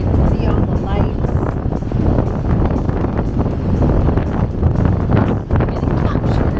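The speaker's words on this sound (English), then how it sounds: "It's really windy out here" Strong wind roars and buffets the microphone continuously, loud and close, with a voice faintly audible beneath the gusts, out on the water approaching a dock at night.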